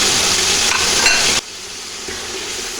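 Potatoes with cumin, turmeric, red chilli and salt for aloo matar pulao fry in a pan, a loud dense sizzle with stirring that drops abruptly to a quieter hiss midway.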